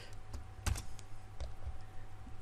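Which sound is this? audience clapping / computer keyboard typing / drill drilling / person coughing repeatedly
computer keyboard typing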